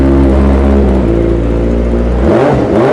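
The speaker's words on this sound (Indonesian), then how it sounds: "suara motor apaan tuh, Wi?" A motorcycle engine runs loud and close, holding a steady drone before its pitch shifts and wavers near the end, with no talk over it.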